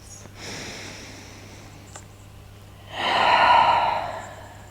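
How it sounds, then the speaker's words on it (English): A slow, deep inhale through the nose during a power vinyasa yoga practice, heard close and alone as one long airy draw of breath after a fainter, shorter breath earlier. "Take an inhale through the nose."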